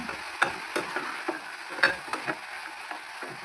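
Carrots, cabbage, potatoes and peas fry together in a pan for a wedding-style vegetable kurma, with faint sizzling under soft, irregular scrapes and taps of a spoon stirring.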